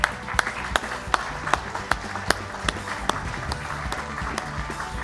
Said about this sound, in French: On applaudit pour ce projet.